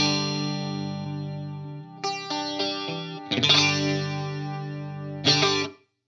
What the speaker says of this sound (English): like this is the tri-chorus setting they have